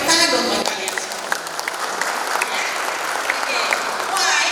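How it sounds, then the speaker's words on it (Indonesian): Graduating class and audience applauding at a high school graduation ceremony in Jakarta, loud sustained clapping from a large crowd with a voice over a loudspeaker at the start. "Tepuk tangan dong buat kalian semua."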